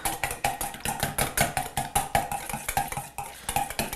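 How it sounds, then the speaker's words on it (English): Two eggs are whisked briskly in a bowl, the whisk clicking against the sides in a fast, even rhythm with only a brief pause near the end. "Give these a good whisk."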